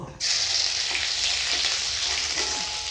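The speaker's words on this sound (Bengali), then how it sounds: "কড়াতে সাদা তেল দিয়ে দিব আদা কুচি দিয়ে দিব" Chopped ginger drops into hot white oil in a kadai and bursts into a loud, sudden sizzle that holds as a steady bright hiss with faint stirring, close up and without voices.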